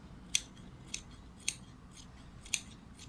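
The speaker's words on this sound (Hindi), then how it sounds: "अब हम इसकी कटिंग कर रहे हैं जहाँ पर हमने निशान लगाया था।" Scissors snip through shirt fabric along marked lines, four crisp separate cuts spaced unevenly in a quiet room.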